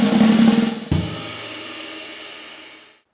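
A snare drum press roll in a jazz swing fill, swelling in a dense buzz of bounces, then a crash cymbal strike that rings out and fades over a couple of seconds.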